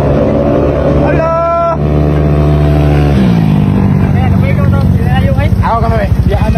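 A Honda Click scooter engine runs loudly up close, revving with a shifting pitch and then settling into a rough, throbbing idle while people talk over it.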